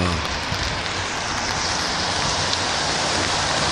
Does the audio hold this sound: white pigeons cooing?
no